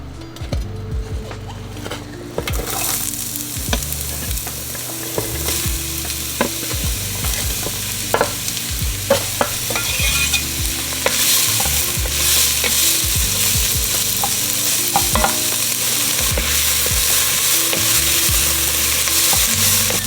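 Onions sizzle and fry in oil in a seasoned pan, a steady loud crackle with repeated stirring scrapes and occasional utensil clinks, no talking.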